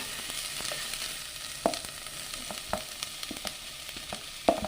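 Chopped onion sautéing in a pan for a mutton roast, a steady close sizzle with scattered spoon scrapes and a couple of sharper clinks against the pan.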